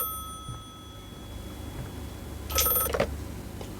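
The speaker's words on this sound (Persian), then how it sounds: "اوه تلفن" A telephone rings in a horror game set in a house, a short bright electronic ring burst midway, fairly clear over low background ambience.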